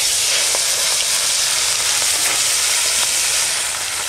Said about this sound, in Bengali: তেল গরম হয়ে গেছে, এখন আমি শোল মাছ ভেজে নেব।